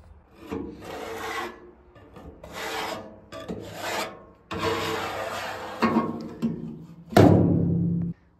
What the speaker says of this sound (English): And then when I'm done at the end, I scrape this and clean it off.